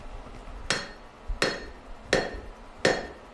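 Four evenly spaced hammer blows ring out on an anvil while a balisong butterfly knife is being forged, each strike sharp and close with a brief metallic decay, and no speech.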